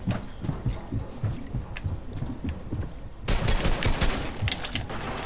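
Shotgun blasts from Fortnite gameplay, firing in dense repeated bursts that grow louder and busier in the second half, with no speech over them.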